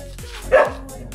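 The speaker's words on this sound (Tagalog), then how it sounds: "May aso kasi, hindi kami makatawid eh" One sharp, close bark from a dog guarding a rental property rises briefly out of a low, steady background hum.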